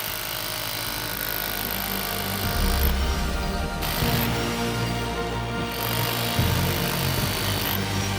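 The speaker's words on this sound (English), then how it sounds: "The panel can even handle the demolition hammer." A demolition hammer pounds continuously on a homemade solar panel with a harsh, rattling mechanical drone, its intensity shifting slightly as it works.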